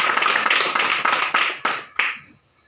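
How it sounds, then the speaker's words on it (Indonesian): A class of pupils applauds together, steady clapping from many hands that thins out near the end into a few last scattered claps before stopping. "Nah, kita berikan aplaus kepada"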